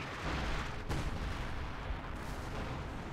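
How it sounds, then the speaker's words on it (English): Artillery fire rumbles through a Company of Heroes 2 battle, a dense, continuous low barrage with one sharper blast near the start, steady and loud throughout with no talking. "what's up with that artillery?"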